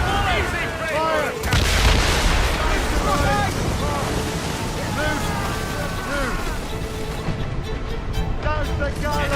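Ship cannon fire in Assassin's Creed Rogue video game, heavy booms rolling under constant wind and surf noise, with shouted voices and sea-battle clamor throughout.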